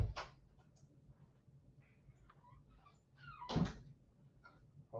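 A room door is pushed shut indoors, giving two brief, fairly faint thuds a few seconds apart against a quiet background, with no talking.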